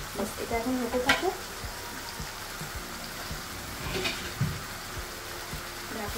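Prawns cook in ghee in a pan with a steady sizzle under irregular scraping stir strokes and soft clunks, with a faint voice in the background.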